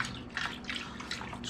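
Green dye liquid poured into a container for vacuum-infusing wood, a soft trickling, splashing pour with brief louder gushes, close and steady over a quiet background.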